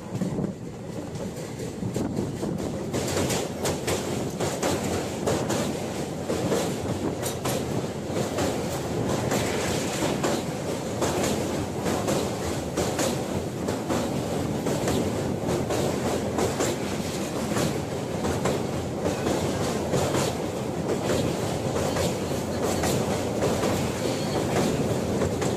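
The Kanchan Kanya Express rolls steadily along the line in the Dooars near Banarhat after crossing the Jaldhaka river, its wheels giving a continuous loud clickety-clack with wind rushing past.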